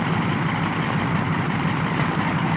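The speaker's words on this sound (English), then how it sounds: "until the engine is firing smoothly" Radial engine of a North American T-6 Texan (SNJ/Harvard) trainer runs after start, a loud, steady low rumble with a continuous throbbing drone, heard close and alone.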